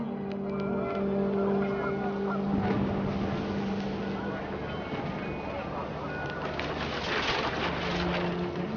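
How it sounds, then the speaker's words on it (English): Panicked geese honk in a brief flurry from What Remains of Edith Finch, set against loud, continuous wind and a steady drone, with no clear speech. "The wind picked up, and panicked geese appeared and quickly went."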